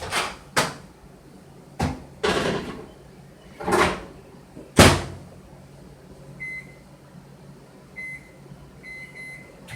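A microwave door clicks open and thumps shut several times with sharp latch sounds, followed by a quiet hum and a few soft electronic beeps.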